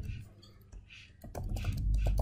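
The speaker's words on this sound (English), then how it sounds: "I can type in subtraction" Computer keyboard typing, a short run of close key clicks that grows denser toward the end, with a voice speaking in between.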